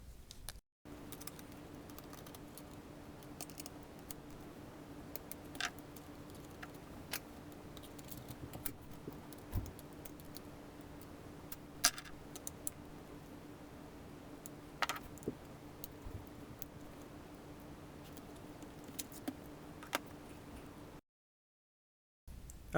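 Small plastic panels come off the underside of a Dell Latitude D600 laptop, a scattered run of faint close clicks, taps and light scrapes over a quiet hum, with no talking.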